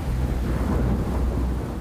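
Deep, continuous low rumble of thunder with windy, rain-like noise throughout, steady and fairly loud with no voices.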